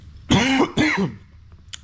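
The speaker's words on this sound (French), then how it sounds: "Je sais pas ce que j'ai, je tousse." Two harsh coughs in quick succession, close and fairly loud, followed by quiet.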